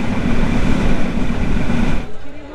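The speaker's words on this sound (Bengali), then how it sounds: "বেনাপোল এক্সপ্রেস বিমানবন্দর থেকে ছেড়ে দিল 12:07 ফুল স্পিডে" Benapole Express passenger train running at full speed after leaving the airport station, a loud steady rumble and roar of the rolling train that drops off abruptly near the end.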